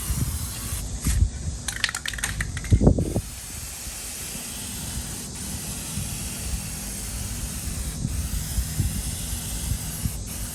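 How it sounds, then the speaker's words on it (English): A nearly empty spray paint can hisses in a long continuous burst after a few short bursts and rattles at the start, close by, with no voices. "Yeah, see, it's spraying a little"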